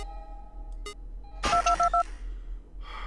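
Telephone keypad tones from the Five Nights at Candy's 2 video game sound as a quick run of four or five short dialing beeps in the middle, set among quieter in-game electronic tones.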